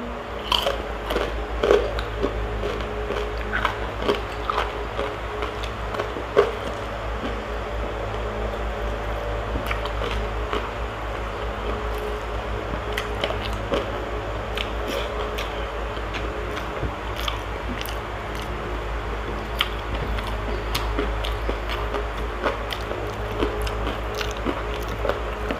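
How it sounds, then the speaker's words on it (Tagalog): Crispy pork belly skin stuffed with onion being bitten and chewed up close, with steady crunching and wet chewing repeating throughout over a low background hum. "Ito namang balat ang kainin natin."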